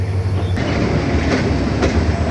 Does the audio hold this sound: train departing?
yes